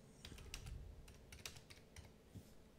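Fast typing on a computer keyboard placed right in front of the microphone, crisp irregular key clicks in quick bursts, close and clear with no voices.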